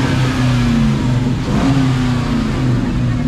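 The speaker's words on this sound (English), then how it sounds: "I knew I heard a car." A Dodge Charger engine revs loudly in a parking lot, a continuous close mid-pitched roar whose pitch wavers and rises slightly partway through, with no talking.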